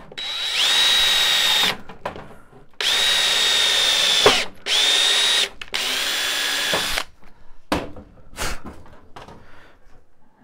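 A power drill spins up in several long whining bursts with short pauses between them, driving tap drill bits into a workpiece during a laser power supply replacement.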